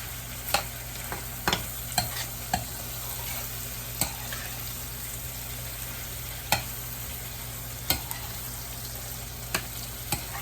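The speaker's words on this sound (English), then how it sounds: "It's beginning to brown in the butter." Turkey wings brown in butter with a quiet, even sizzle, broken by sharp clicks and taps at irregular intervals as they are moved around the pan.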